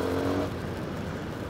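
Engine of a scooter or small motorcycle while riding, a steady close drone with a brief harmonic whine at the start, with no talking.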